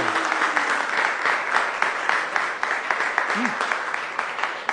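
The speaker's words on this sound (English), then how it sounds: "Round of applause." Audience applause during a public art tour at the Long Beach Museum of Art, a dense patter of clapping hands sustained for several seconds at close range, with a brief voice sound partway through.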